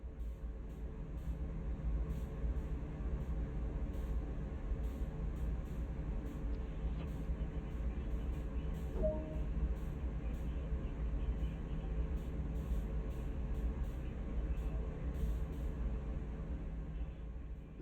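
A CSX freight train in Train Sim World brakes with a steady low rumble and faint hiss in the cab, quiet and continuous, with a brief squeal partway through.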